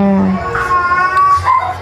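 A neighbour's cat, one of the cats being fed beside a tree, gives a drawn-out, close, fairly loud meow with a wavering pitch, heard alone.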